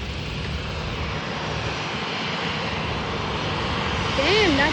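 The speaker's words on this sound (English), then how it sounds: "Damn, that plane's going so fast." Gulfstream jet plane passing at an airport, a steady broad engine roar at moderate distance with a rising pitch sweep near the end, and people talking faintly alongside.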